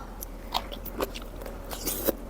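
Angel-wing jellyfish being bitten and chewed up close, a few crisp crunches spaced about half a second apart over a faint background hum.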